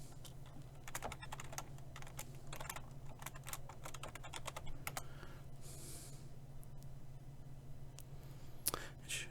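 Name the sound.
typing email and password on a computer keyboard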